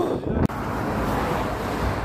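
Strong wind blusters past the microphone on a road journey from La Jonquera to Leucate, a loud continuous roar with a brief dropout near the start.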